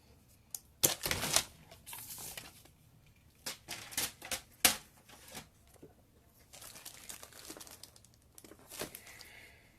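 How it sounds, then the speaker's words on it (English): Paper trimmer slicing through cardstock while making a floral greeting card, heard as a few sharp crisp cutting and sliding strokes with papery rustles between them, close up and fairly quiet with no talking. "So I just lined it up on my paper trimmer and cut."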